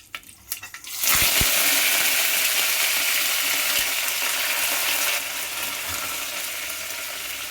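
Tempering of cumin, dried red chillies, crushed garlic and curry leaves hits hot oil for a pepper rasam, bursting into a loud, dense sizzle after a few crackles and holding steady, easing slightly toward the end.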